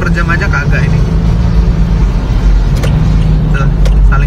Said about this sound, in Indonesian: Tuh, saling salip antar truk.